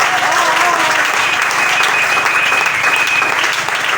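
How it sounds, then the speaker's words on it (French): A church congregation applauds together in steady, loud, continuous clapping that fills the whole stretch without a break. "Est-ce que quelqu'un peut acclamer cette chose?"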